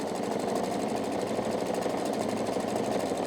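A Pfaff Expression 710 sewing machine runs steadily through a decorative stitch, a continuous close whirring hum with a fast, even mechanical pulse and no talking.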